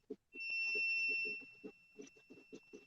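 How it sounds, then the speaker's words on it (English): A thin electronic beep sounds once and holds for about a second, then fades while a person speaks in short bursts nearby. "Oh, I hear something beeping."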